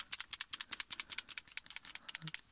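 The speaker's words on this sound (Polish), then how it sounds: "to, co słyszycie, to jest lufa zewnętrzna" Rapid, light plastic rattling of an Army Armament R614 TTI JW4 Pit Viper airsoft pistol's outer barrel being shaken, a fast clicky patter that is quiet and close.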